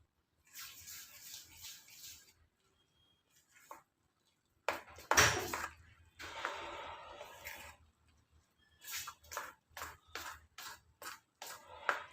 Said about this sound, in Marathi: चमच्याने आपण मिक्स करून घेऊया